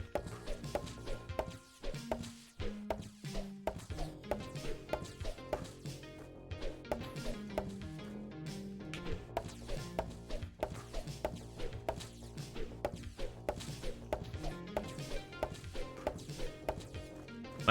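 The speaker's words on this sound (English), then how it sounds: "I am chopping these trees down," Trees chopped down in the video game Lumberjacked: a steady run of sharp wooden chops and thwacks over layered game music and effects, continuing for the whole stretch at a moderate level.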